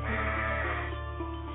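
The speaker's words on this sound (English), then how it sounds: "Here are some of my very best sheep." Several sheep from a flock of a shepherd's best animals bleat steadily and close up, a loud continuous chorus of overlapping calls in an animated Bible story scene, with no talking.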